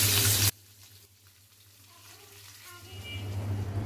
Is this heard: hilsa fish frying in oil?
yes